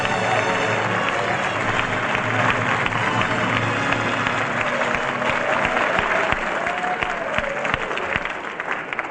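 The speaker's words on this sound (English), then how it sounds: "But why should I get all that applause?" Live studio audience applause on a 1949 Bob Hope radio broadcast: sustained, dense clapping from a large crowd that carries steadily across the whole stretch.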